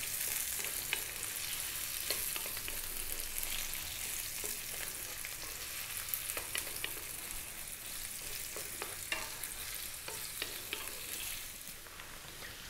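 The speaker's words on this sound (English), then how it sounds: "They're just boiled potatoes, but we're going to fry ours, which is fairly typical." Boiled potatoes fry in a pan for spicy aloo chaat, making a continuous crackling sizzle with scattered sharp pops, moderately quiet and steady throughout, with no voices.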